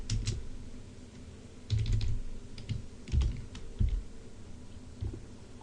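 Keys on a computer keyboard are typed in short bursts of quick clicks with pauses between, close and fairly quiet in a still room.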